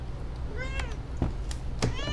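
A domestic cat meows several times in rising, wavering calls, fairly close, over a low steady background hum, with short gaps between the cries.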